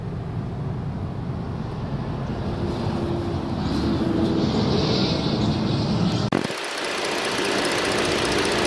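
The 3.5 liter V6 in a Ford Flex runs at a steady idle, a low continuous rumble heard close up and alone, with a brief clunk near the end as the sound shifts.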